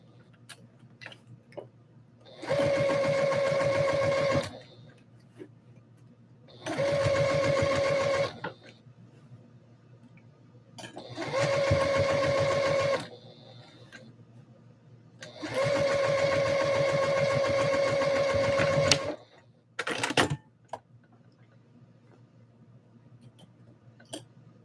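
A sewing machine hems a pair of shorts in four bursts of rapid stitching, each a few seconds long with a steady whirring hum, separated by pauses filled with small handling clicks and a short final burst.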